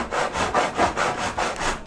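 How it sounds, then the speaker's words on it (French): A mitre saw cuts through a fly screen cassette clamped in a vice, giving a steady run of rhythmic rasping strokes, loud and close, with no voices. "On vient se placer dans la scie à onglet."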